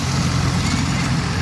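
An old tractor engine running close by, a brief, dense, steady low rumble with no breaks.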